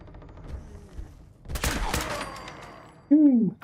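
A burst of rapid gunfire from a video game gun, a dense crackling volley in the middle of the clip with someone talking around it and a short tonal electronic blip at the end.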